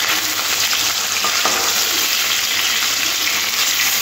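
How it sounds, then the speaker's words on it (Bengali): Raw hilsa pieces frying in oil with nigella seeds, a constant loud hiss of sizzling fat, with a few soft knocks as the fish is turned over and no voices. "উল্টে দেবো মাছগুলো"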